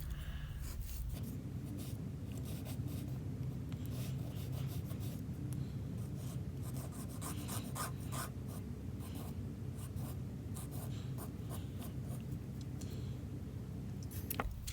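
Fingernail edges being filed round and flat with a nail file after a nail broke, a steady close scratchy rasping that runs almost without pause under a low background hum.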